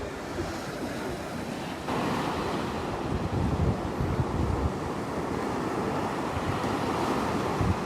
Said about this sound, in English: Oh, and the waves coming through.